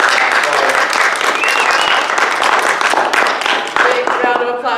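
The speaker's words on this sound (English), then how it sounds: "Big round of applause for Talk-Oyaki Entertainment." A convention audience at Kitsune Kon applauds, loud clapping sustained throughout, with cheers and voices mixed in and some whistle-like tones near the end.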